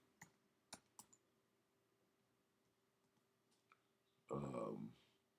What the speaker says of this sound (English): James Cameron, let's type this in.